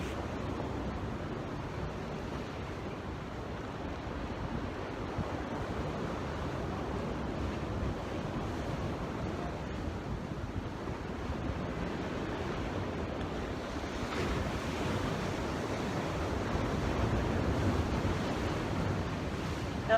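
Ocean surf washes steadily onto a beach, a continuous rolling roar mixed with wind buffeting the microphone, fairly loud and unbroken for the whole stretch, with no voices.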